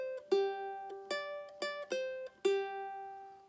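Plucked ukulele picks out the tricky riff from a song: six or seven bright, sustained notes in an uneven rhythm, played close and fairly soft, with no voice.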